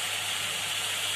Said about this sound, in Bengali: চুলাতে পেঁয়াজ আর চিংড়িটা ভাজতে দিয়ে দিচ্ছি